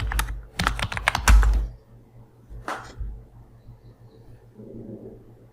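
A password is typed on a computer keyboard during a CentOS 8 install in VMware Workstation: a quick burst of close key clicks, then a lone tap after a pause, over faint room hum.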